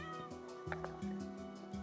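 A cat in the video game Minecraft gives short, repeated meows, quiet and close, with a few brief tones between them.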